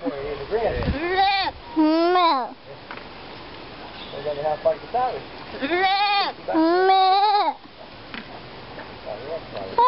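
A goat on a farm bleats in long wavering cries, several times at close range, while a person talks between the calls and may imitate the bleating.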